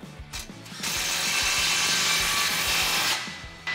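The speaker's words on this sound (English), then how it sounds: "Grab your 15 socket and let's tighten down our clamps." A ratchet with a 15 mm deep socket tightens an exhaust clamp on a 2019–2021 RAM 1500 5.7L with an MBRP muffler bypass pipe. A few quick clicks lead into one continuous rasping turn, close up and fairly loud, with no voices.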